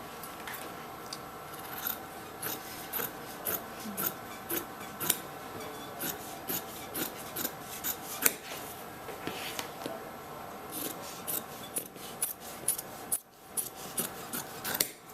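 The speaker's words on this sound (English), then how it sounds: "So long as we don't make the scissors go all the way down, you will get nice smooth lines." Scissors snip along a paper sewing pattern laid out on fabric, a steady series of short, quiet cuts repeating about every half second, close and alone.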